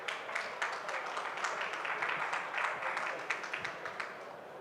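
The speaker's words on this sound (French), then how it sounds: "Vous pouvez l'applaudir." Audience applause at moderate distance at a space conference at the Paris Air Show, a steady patter of many hands clapping that holds evenly throughout.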